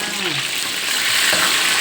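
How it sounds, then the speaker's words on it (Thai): Sea bass fillets fry in hot oil in a pan for a black pepper fish dish, giving a steady, close, bright sizzle that holds constant throughout. "ต้องต้องทอดให้มันเหลืองได้ที่นะมันถึงจะกลับแล้วไม่ติดกระทะนะ"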